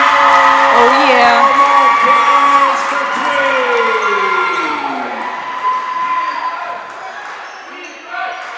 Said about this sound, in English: Should hear this crowd.